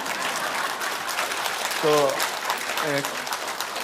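Applause from an audience at a lecture for Daegu citizens, a broad wash of clapping running underneath, while a voice briefly sounds over it.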